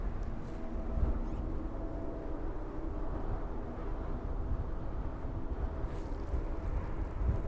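Wind gusts buffet an outdoor microphone at an airport viewing park, a continuous low rumbling roar with slight surges and no speech.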